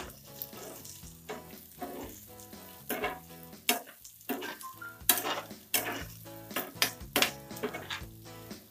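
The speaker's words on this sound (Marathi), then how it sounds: "आता आपण तेल गरम झाल्यानंतर भेंडी भाजून घ्यायची आहे." Okra fries in hot oil for dhaba-style bhindi masala while being stirred, with a steady sizzle broken by frequent scraping and clinking of a spoon against the pan, close and busy.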